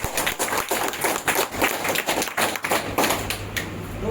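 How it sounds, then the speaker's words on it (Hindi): An audience claps at a seminar on direct selling, a brief round of applause with dense, overlapping hand claps that stays fairly steady in loudness and carries no talking. "क्या इतना ही छोटा ताली होना चाहिए?"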